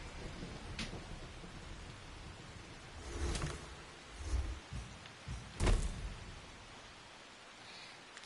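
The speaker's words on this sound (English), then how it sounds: "Oh, it's raining, so yeah, they're not staying lit." Steady rain falls in the video game Assassin's Creed Shadows, and several low rumbles of thunder roll through it, one louder crack near the middle, all with no voices.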